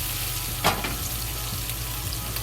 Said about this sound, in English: Roast the dumpling.